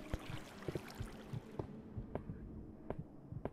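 A faint video game heartbeat pulses at a steady rhythm, soft repeated thumps over a low hum, with no voices.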